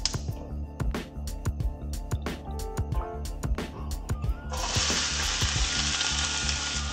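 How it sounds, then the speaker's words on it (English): Onions, shallots and spices hit hot olive oil and start frying, a close crackle with stirring clatter, swelling into a loud steady sizzle in the final seconds; no talk. "Now I'm going to heat 2 tablespoons of olive oil and put the aromatics in, the onions,"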